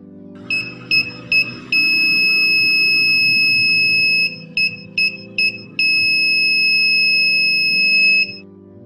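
An EGS002 inverter driver board sounds its under-voltage warning, a loud, clear electronic beep in a distinct pattern. A few short pips give way to long sustained tones, then more short pips and long tones.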